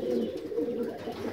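Low, soft pigeon cooing from a pigeon breed said to originate in Ordzhonikidze (Vladikavkaz), a steady near coo with no voices.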